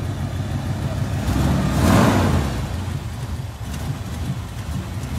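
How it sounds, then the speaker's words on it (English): An old 1984 Nissan car engine rumbles at low pitch, swelling to a louder revving peak around the middle before settling back to a steady idle, heard nearby outdoors with some broadband hiss. "An old school 84 Nissan, man."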